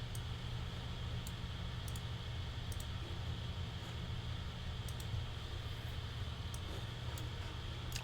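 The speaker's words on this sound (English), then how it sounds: "So that's Brownian noise." Brownian noise audio signal plays as a steady, deep rumbling hiss, heaviest at the low end, with a few faint ticks on top and no break from start to finish.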